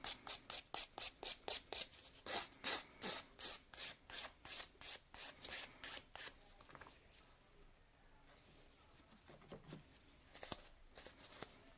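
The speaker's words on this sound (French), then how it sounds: "je vais passer ma lime grinçant partout" A nail file rasping over fingernails in quick, rhythmic back-and-forth strokes, close and crisp for about six seconds, then fading into faint, scattered rubbing.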